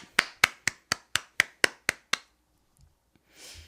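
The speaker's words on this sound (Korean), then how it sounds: "박수로 맞아주세요" Steady hand claps, about ten sharp evenly spaced claps close by, as a guest is welcomed onto a stage; the claps stop and a brief quiet follows.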